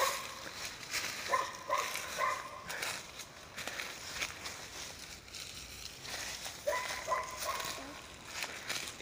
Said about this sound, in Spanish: escucho el ladrar del guardián